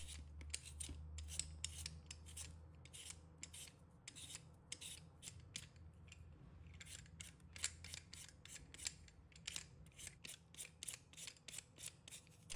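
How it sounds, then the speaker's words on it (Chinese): Skin being peeled off potatoes with a peeler, a quick series of short scraping strokes in an uneven rhythm, close and crisp over a low background hum, with no voices. "先把皮削掉，皮削掉后，露出里面奶黄色的果肉"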